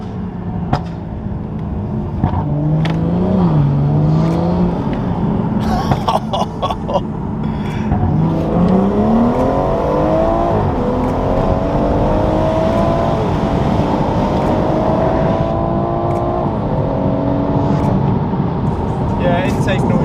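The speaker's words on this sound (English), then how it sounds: "intake noise is definitely a lot more when driving, isn't it? The engine sound is, yeah." A straight-piped BMW M140i on the move, its engine and intake droning loudly and steadily as the revs climb, dip and climb again, with voices talking over the noise.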